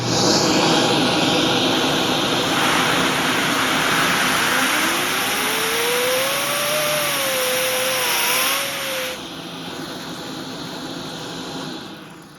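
A homemade Lego vacuum engine spins up to full speed with a steady air-rushing hiss and a whine that climbs in pitch and holds high, then drops off near the end while a fainter hiss continues.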